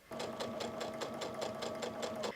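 A sewing machine runs steadily while chain piecing quilt triangles, its needle tapping rapidly in an even rhythm over a constant motor whine, close and alone.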